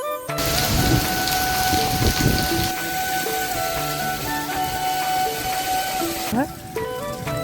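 Rain pours down steadily in a village, a dense, loud hiss that runs nearly throughout, with voices faintly present underneath and the downpour cutting off abruptly near the end.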